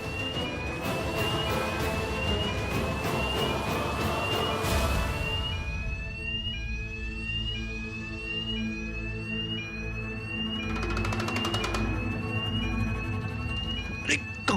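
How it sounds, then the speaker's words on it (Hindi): Hotel fire alarm ringing in a drama scene, a loud repeating electronic beeping pattern that rises and repeats steadily throughout, with a louder burst near the end. "ये तो फायर अलार्म है।"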